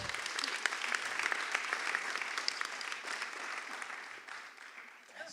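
Audience applause greeting a panelist at a political panel event on basic income, a sustained dense patter of many hands clapping in a hall that gradually fades toward the end, with a voice briefly heard over it.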